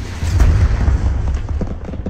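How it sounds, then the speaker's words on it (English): A rocket explosion in Arma 3 during an insurgency firefight in Zargabad, heard as a loud, deep booming blast with a rumbling low-end tail and scattered crackling afterward, with no voices over it. "It's a rocket."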